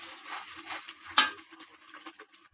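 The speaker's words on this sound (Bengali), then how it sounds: "একটু নাড়াচাড়া দিয়ে দিলাম।" A spoon stirs a spicy chicken roast in a cooking pot, giving soft scraping and quiet clinks against the metal, with one brief sharper knock partway through.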